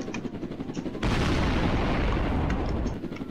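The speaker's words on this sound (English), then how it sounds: "Here, I'ma drop a bomb on you." A bomb detonates in Roblox Jailbreak, a sudden heavy blast that roars loudly for about two seconds before fading into rumble; no voices.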